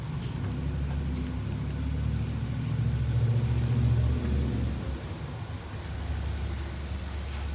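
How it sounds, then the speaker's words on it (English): A heavy garbage truck engine rumbles at idle, low and steady, then revs slightly and fades as the truck pulls away. "I'm going to wait a second until the trash man leaves"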